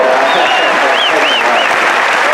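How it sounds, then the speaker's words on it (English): A live conference audience applauds steadily throughout, dense sustained clapping with a few whoops and cheers rising above it, loud and continuous from start to finish. "a round of applause for Mexican husbands"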